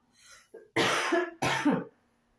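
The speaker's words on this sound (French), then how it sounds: "Excusez-moi, je tousse." A woman coughs twice, close and loud, with a short breath and a soft throat sound before the coughs.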